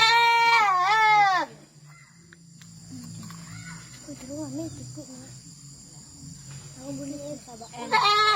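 A goat bleats loudly and close before slaughter, with a wavering cry at the start and another at the very end. Voices talk quietly in between.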